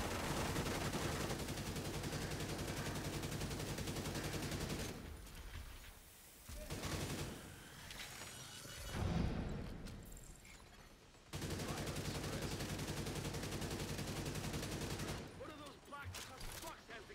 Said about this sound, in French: Le milieu t'as une tourelle qui fait très mal.